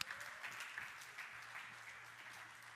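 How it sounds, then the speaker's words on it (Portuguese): An audience at an Easter church gathering claps for Henrique, a soft, distant spread of applause with a low hum underneath. "Dá um aplauso para o Henrique antes dele subir."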